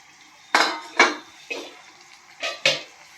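A metal spoon clanks against a kadai while vegetable biryani is stirred, giving five sharp, close knocks at irregular intervals with quiet gaps between them.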